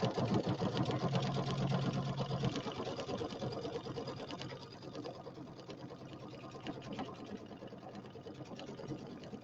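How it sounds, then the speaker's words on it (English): A sewing machine stitches a quilt at a slow, steady pace, its needle clattering rapidly and continuously at close range with a slight drop in loudness partway through. "I'm going to go ahead and get started. I'm not going to sew very fast."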